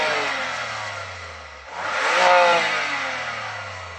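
BMW M2 engine revved once: a low idle drone drops away, then the engine surges up in a loud, rising roar and holds a strained high note before easing off, close by.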